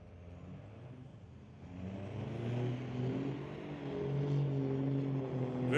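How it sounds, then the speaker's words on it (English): Drag racing at a street-legal night event, a 1969 Camaro and an old-style pickup running down the track, their engines droning loud and steady, growing louder partway through. "Very old style pickup running down track."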